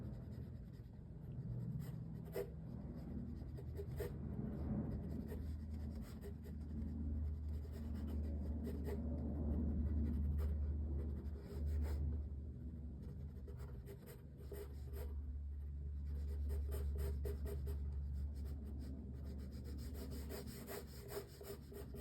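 A pencil sketching simple shapes on paper while drawing a face: soft, continuous scratchy strokes close up, faint beneath a low background rumble, with no talk.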